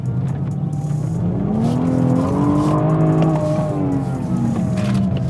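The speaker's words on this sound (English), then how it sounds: "The best thing about this engine, though, is the way it sounds" On a mountain road with a 90 kph limit, a car engine revs and climbs through the gears, its pitch sweeping up and falling back under a harsh rush of road and wind noise, loud and close, with no talk.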